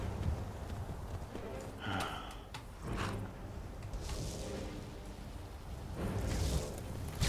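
Horse hooves clip-clop in the video game Skyrim, a run of fairly faint, irregular steps over a low background rumble, with no voice.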